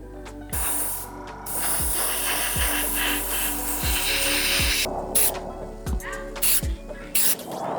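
A spray gun hisses out dye-tinted clear coat in steady bursts, several sustained sprays broken by short pauses and clicks of the trigger, close and fairly loud.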